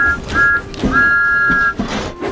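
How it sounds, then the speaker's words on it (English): Thomas the steam engine sounds his whistle loudly, first in a short toot and then in a long, steady blast, over steady rhythmic chuffing as he rolls along. "Thomas hadn't seen that his loud whistle had woken up Mavis."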